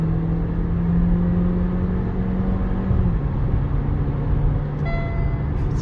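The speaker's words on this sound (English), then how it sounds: "Let's try a speed test. Acceleration from 80 to 120." A 2023 Beijing X55 accelerates hard from 80 to 120 in a kick-down speed test, a steady cabin engine drone and road roar with a slight pitch shift midway.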